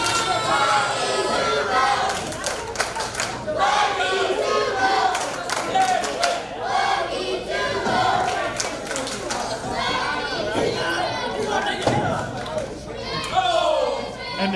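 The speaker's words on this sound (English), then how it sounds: "The crowd trying to breathe life into King Blackie." A wrestling crowd at a pro wrestling show cheers and shouts steadily, with scattered slams and thuds from the ring and a commentator talking over the noise.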